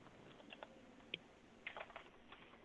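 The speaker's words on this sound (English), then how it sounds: "Who's typing?" Faint computer keyboard typing picked up during a video court hearing, a scattering of soft irregular key taps over a quiet hiss, no one speaking.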